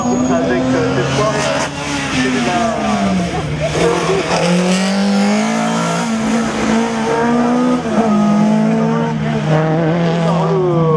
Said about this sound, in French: Benoît Le Sauvretel qui franchit à l'instant pour la troisième fois cette d'arrivée